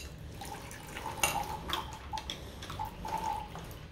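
Water is poured by hand into a small vessel, with cold and warm water mixed. The pour is trickling and splashy, with irregular drips and light splashes close by and no talk.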